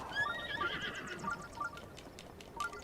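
Repeated whinnying neighs from a horse in Zelda: Breath of the Wild, several short high cries spread across the clip over soft clip-clop hoofbeats and low background hum.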